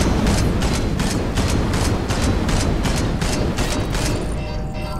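Turrets in Space Hulk: Deathwing fire on the squad in steady repeated bursts, loud and close, forming a dense rattling barrage that eases slightly at the very end.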